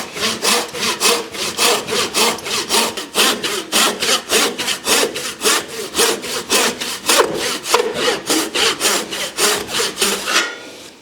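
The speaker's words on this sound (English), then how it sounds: "I've gone as far as I can go with my tenon saw" Tenon saw cutting wood, a close, loud rhythmic rasp of about two dozen even back-and-forth strokes at a steady pace, then stopping.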